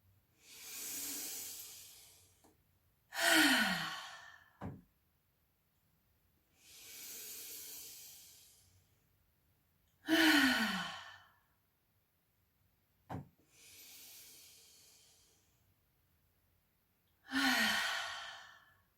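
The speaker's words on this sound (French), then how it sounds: "Et puis, prenez 3 profondes respirations." Slow, deep breathing during a guided yoga session, with three long hissing exhales, each followed by a quick sharp inhale, close and quiet with silence between breaths.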